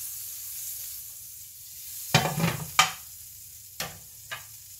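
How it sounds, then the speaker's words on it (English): Butter sizzles in a hot frying pan with a steady, bright hiss, broken by a few clattering knocks and scrapes of a utensil against the pan. "Butter in the pan, nice and hot."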